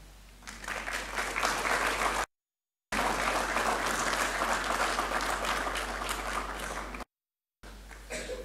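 An audience at a professorial inaugural lecture breaks into sustained, loud clapping that swells quickly and holds steady, cut by two brief gaps of dead silence.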